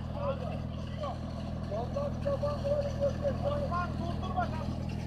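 A steady, low tractor engine drones continuously as it drives a water pump in a field, with a voice talking over the hum; Kıyı village, Mihalıççık, Eskişehir.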